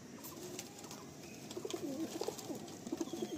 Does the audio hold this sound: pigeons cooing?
yes